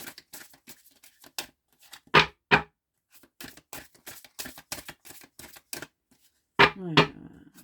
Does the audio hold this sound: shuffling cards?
yes